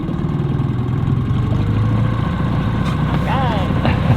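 A vehicle engine runs steadily at a low idle-like drone while the driver eases forward without throttle, with a faint knocking texture and a brief higher squeak near the end, heard at close range.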